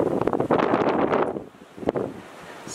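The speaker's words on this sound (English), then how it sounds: "Super windy." Strong storm wind buffets the microphone outdoors on a porch, roaring loudly in gusts before easing into a lower rush with another brief blast.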